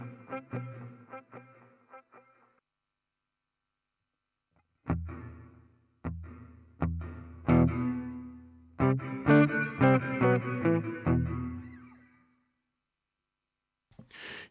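Distorted electric guitar chords and single notes through a Harley Benton DNAfx GiT Core room reverb ring out in bursts separated by pauses, each decaying with a roomy reverb tail.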